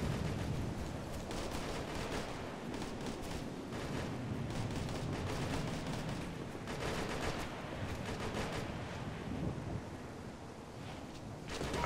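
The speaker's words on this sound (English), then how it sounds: "I hear gunfire." Gunfire in the Operation Flashpoint: Red River military shooter, a continuous rumbling wash of distant shots and blasts with bursts of sharper reports, heard without talk.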